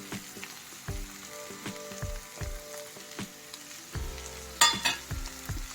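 A bottle gourd fry tossed with coarse sesame and peanut powder in a pan, sizzling steadily while it is stirred up and down, with repeated scraping knocks and a brief louder burst of frying near the end.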